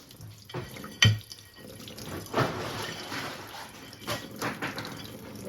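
Water runs from a faucet into a kitchen sink while dishes are washed, with a steady splashing flow broken by louder clinks and knocks of plates and utensils at close range.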